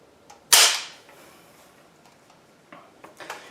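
An FN SAFN49 self-loading rifle's safety pushed forward, giving one sharp, close mechanical click followed by a few fainter small clicks and handling noises.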